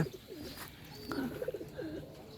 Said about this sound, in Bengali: এই যে আমার সবচেয়ে প্রিয় কবুতরের কবুতর জোড়া